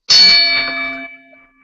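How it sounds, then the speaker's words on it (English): A single bright bell strike rings out sharply, then its metallic tone lingers and fades over about a second and a half. "So after this bell, you got to be quiet."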